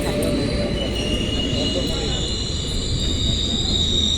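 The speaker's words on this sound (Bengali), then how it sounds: "ট্রেন চলে এসেছে" A train pulls into a station near Asansol, its wheels squealing loudly and steadily on the rails with a continuous metallic screech over a deep rumble, close by.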